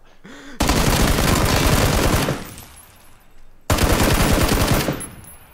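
Video game gunfire: two long, loud sustained bursts of rapid automatic fire, separated by a short pause, close and dominant.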